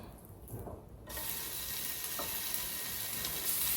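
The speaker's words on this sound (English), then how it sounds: "We're gonna start off cooking the bacon." Cut bacon strips sizzle in a skillet, a steady broadband hiss that swells up loudly after a brief quieter start and holds close and continuous.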